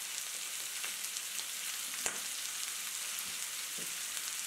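Boiled chickpeas fry with potatoes in a pan, a faint, even hiss of frying with scattered light crackles and one small tap of the spoon.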